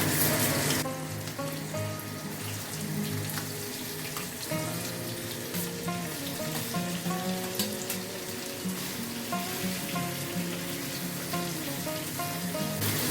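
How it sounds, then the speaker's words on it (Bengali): Boiled raw jackfruit pieces frying in hot oil in a kadai, a loud, continuous hissing sizzle that stays steady throughout, with no talking. "এই তেলেই আমি সেদ্ধ করা এঁচড়গুলো হালকা ভেজে নেব"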